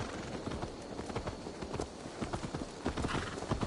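Horse hooves clip-clop at a steady walking rhythm in Assassin's Creed Valhalla, close and clear over an outdoor game ambience, with a faint whinny mixed in.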